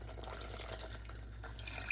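Tamarind juice and extra water pour into a pot of garlic rasam, a soft continuous trickle and splash of liquid that stays fairly quiet and steady for a couple of seconds under a low background hum.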